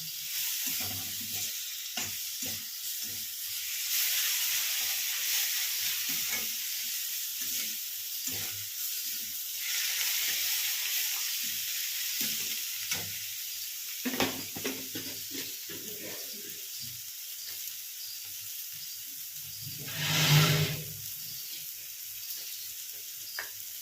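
Crispy potato paratha sizzles and fries in a pan over full flame, a continuous hiss with intermittent scraping and stirring clatter, a louder thump near the end, under occasional talk.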